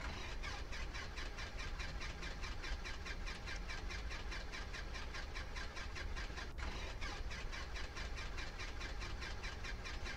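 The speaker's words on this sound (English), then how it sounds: "Perhaps I flooded the engine." Simulated Piper Super Cub engine in X-Plane 11 cranking over steadily, a continuous rhythmic churning with fast regular pulses that never catches into a run, loud and unbroken throughout.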